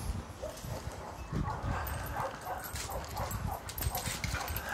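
Dogs play and chase balls nearby with scrabbling paws, panting and small yips and whimpers, moderately loud throughout.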